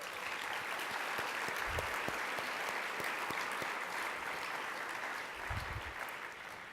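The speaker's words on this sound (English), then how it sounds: "Round of applause for all of you." An audience at a convention keynote applauds steadily, a sustained wash of many hands clapping at an even level throughout, with no talk over it.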